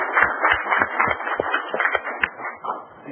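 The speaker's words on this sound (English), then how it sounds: "let's offer some applause" Audience applause at a Georgetown Township board meeting: a quiet, steady patter of claps from a small room, rising and falling in dense overlapping bursts for about three seconds.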